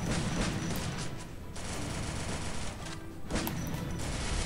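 In a 4v4 team shooter match, a DM marksman rifle fires amid a continuous barrage of close, loud gunshots. Overlapping reports and crashing impacts blur into a roaring wall of fire, easing only briefly before swelling again.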